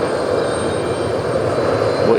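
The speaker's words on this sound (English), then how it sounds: "What you just heard there was the introduction of fuel into an engine at startup." A jet airliner engine at JFK airport roars steadily during startup as fuel is introduced, a broad continuous rumble with a faint high whine on top, heard from moderately close.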